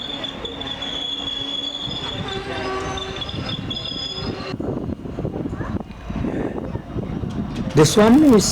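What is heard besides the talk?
train passing, empty rake of KSR Bengaluru Kachigoda Express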